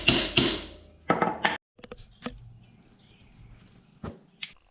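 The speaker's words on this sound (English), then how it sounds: "now I'm going to take and use the punch some more and get the bolt out farther" Sharp metallic taps of a punch driving a bolt out of a motor mount on a 2003 Honda Shadow 1100 motorcycle, a few quick strikes in short bursts, then scattered lighter knocks, close and fairly loud.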